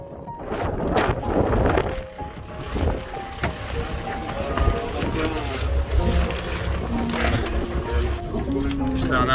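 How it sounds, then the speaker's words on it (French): Wind and rain gust outdoors, roaring and buffeting the microphone in uneven surges, while people talk over the weather. "on retourne dans le vent et sous la pluie vers la voiture"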